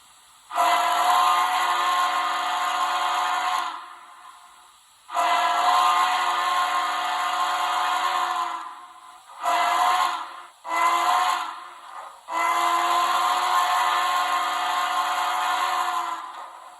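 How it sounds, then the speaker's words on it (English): Steam whistle sound effect from a Kato GS4 steam locomotive's drop-in DCC sound decoder, heard as several loud sustained blasts: two long ones, two short toots, then a final long blast, with no talk. "F2 is whistle."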